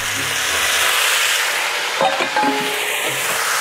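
Chicken and beef sizzle in a hot stir fry pan with zucchini, a steady, loud frying hiss throughout with a few brief clinks of stirring near the middle.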